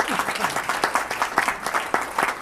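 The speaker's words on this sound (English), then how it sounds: "Good show, round of applause." Audience at a Rochester media holiday luncheon applauds a panel, a brisk, fairly close round of clapping with distinct individual claps over a steady crowd wash.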